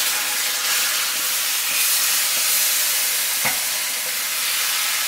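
Pureed tomato sizzles after going into a hot pan for a tomato eggplant curry. A loud, continuous frying hiss runs throughout, with a brief stirring scrape near the middle.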